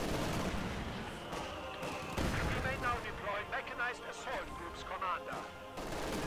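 Dense gunfire and explosions from a Company of Heroes 2 1v1 match on a winter map, with a machine gun position overrun by massed infantry; bursts and booms pile up continuously, loud and chaotic, throughout.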